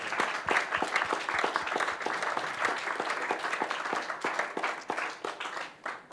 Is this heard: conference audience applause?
yes